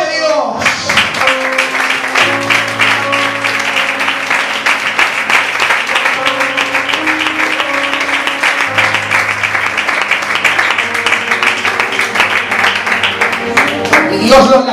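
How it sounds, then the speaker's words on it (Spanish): A church congregation breaks into sustained, loud applause, dense clapping that carries on under music and a voice. "¡Aplaude!"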